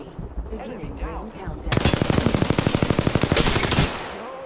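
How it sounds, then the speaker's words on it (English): Apex Legends gunfire: after a brief stretch of game noise, a loud, rapid automatic burst of evenly spaced shots rattles on for about two seconds and then stops abruptly. "Opening fire on the enemy."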